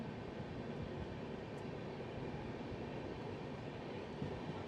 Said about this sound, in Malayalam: ഈ ഗുഡ്സിനൊരു പ്രത്യേകതയുണ്ട് ഇത് പൊക്കം കുറഞ്ഞ ജെ സി ബിയെ കൊണ്ടുപോകത്തക്ക രീതിയിൽ പണിഞ്ഞിരിക്കുന്ന ഒരു ഗുഡ്സാണ്